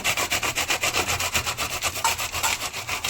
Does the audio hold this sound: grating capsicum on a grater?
yes